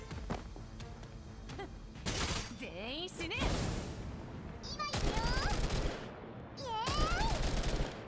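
Gunfire in the video game Koshmar, with sharp shot bursts and loud clustered volleys mixed with other game effects and swooping tones, recurring through the stretch.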